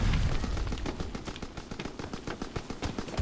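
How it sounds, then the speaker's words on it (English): Rapid gunfire in the Call of Duty WW2 multiplayer video game, a dense stream of sharp shots crackling in quick succession, some bursts like machine-gun fire, loud and continuous with no speech. "Who is just firing away?"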